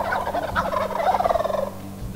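Wild turkey gobblers gobbling from a roost in Massachusetts, a clear rattling gobble burst heard fairly close in a quiet morning woods, with other birds faintly behind.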